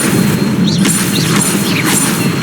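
An Incendio fire spell is cast in Hogwarts Legacy, giving a loud, dense whooshing burst of flame that fills the whole short span with a booming roar and brief whistling flickers over it.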